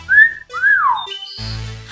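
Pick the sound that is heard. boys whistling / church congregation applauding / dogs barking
boys whistling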